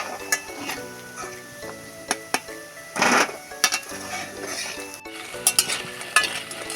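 Oil sizzles steadily in a pan as powder-coated baby corn fries, while utensils clink and tap at irregular moments, with a faint tonal background underneath.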